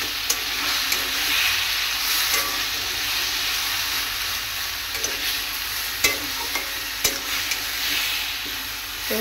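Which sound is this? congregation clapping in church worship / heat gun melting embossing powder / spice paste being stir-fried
spice paste being stir-fried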